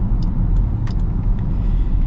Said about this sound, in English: it sounds like a muscle car because it's got a muscle car engine.